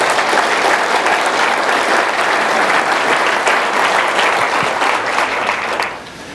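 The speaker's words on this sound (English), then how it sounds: "give a round of applause for Riley and Kyle and Adam for those great presentations this morning" Sustained applause from a TEDx talk audience fills the room, dense and even for several seconds before tapering off slightly at the end.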